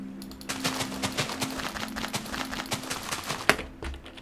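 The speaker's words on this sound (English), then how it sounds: "You can hear me clicking." Rapid, irregular clicking of a computer mouse during Minecraft play, dozens of sharp ticks in quick bursts over steady game background noise, with one louder snap near the end.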